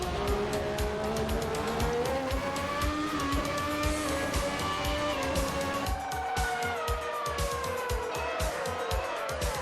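Video game 1994 Formula 1 car engines in a wet race at Japan whine at high pitch, rising and shifting through gears continuously, with other cars passing, loud and close throughout.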